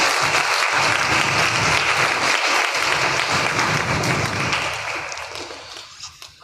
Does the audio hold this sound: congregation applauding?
yes